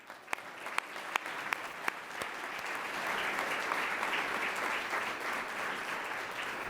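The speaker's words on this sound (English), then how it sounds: "Let's give everybody a round of applause." Applause at a Columbus Metropolitan Club lunch forum, beginning with a few distinct, spaced claps that quickly swell into steady, fairly soft clapping from the audience.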